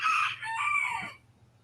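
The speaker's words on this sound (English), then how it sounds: "the rooster is gonna distract me" A nearby rooster crows once, loud and drawn out, with a harsh wavering call that breaks off abruptly and leaves quiet background hum.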